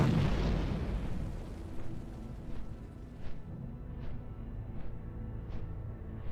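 Bombs exploding in World of Warcraft: a loud explosion at the start rolls into a fading rumble, followed by a series of smaller, evenly spaced blasts at a distance.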